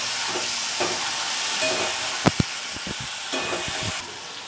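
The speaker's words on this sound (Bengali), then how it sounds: "সেই লঙ্কা বাটাটা দিলাম এবার ভালো করে নাড়িয়ে নেব" Onion and chili paste stirred in a hot pan for a poppy-seed curry with taro stolons, giving a steady sizzle broken by scraping spoon strokes and two sharp clinks near the middle.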